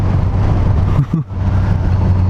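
A 2019 Suzuki GSX-S 1000F motorcycle engine pulls hard in first gear past 80 mph, a steady, loud, droning roar with a brief dip near the middle, as if easing off momentarily, before the drone resumes.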